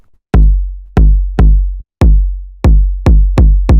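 Synthesized techno kick drum played without a pitch envelope, used in acid breakbeat techno: about nine loud, deep booming hits in a steady, slightly uneven pattern, each with a long low tail and no other sound.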